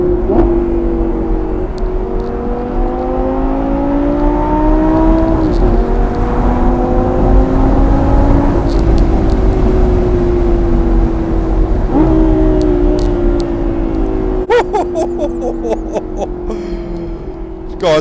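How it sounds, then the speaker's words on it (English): A Lamborghini Gallardo V10 Performante downshifts while driving, its engine note droning loud and steady with several distinct blips and shifts in pitch, plus crackles near the end and occasional talk inside the car. "Do some downshifting on this car."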